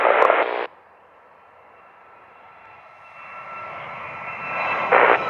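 An airplane approaches the runway at Montego Bay, Jamaica, as a steady engine roar builds slowly, with brief crackly radio bursts at the start and near the end.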